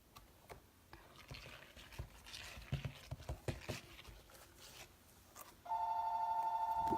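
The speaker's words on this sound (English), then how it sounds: "you guys will have to ignore my my phone" A phone starts ringing abruptly partway through, a steady electronic tone that continues to the end, following faint tapping and rustling movement.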